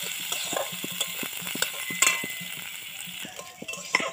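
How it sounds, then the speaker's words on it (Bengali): Chopped red chilies and curry leaves frying in mustard oil, a soft sizzle under rhythmic scraping and clinks of a spoon stirring the pan, faint and close, with no talk. "তেলের মধ্যে দিয়ে দেবো পাকা লঙ্কা কুচি আর একটু কারি পাতা কুচি। এটা 1 মিনিটের মতো এইভাবে একটু নাড়িয়ে নেব।"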